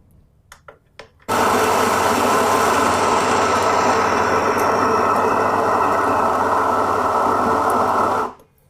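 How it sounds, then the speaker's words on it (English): An electric coffee grinder grinds coffee beans in one continuous, loud burst of about seven seconds, preceded by a few faint clicks and cut off cleanly at the end. "compared to what the electric grinder does, touch of a button"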